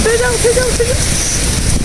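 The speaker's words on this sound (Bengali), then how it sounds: "মানে এত বৃষ্টি কেন কলকাতা?" Heavy rain falls steadily in Kolkata, a broad continuous hiss on a college day with a voice briefly heard over it.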